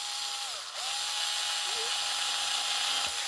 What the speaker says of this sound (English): we take our 2mm drill and we just run that